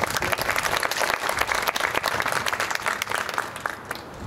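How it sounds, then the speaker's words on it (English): Audience applause fills a ribbon cutting ceremony for a restorative justice community court, a steady, dense round of clapping from a crowd that holds loud and even throughout. "One more round of applause for Father Stanley."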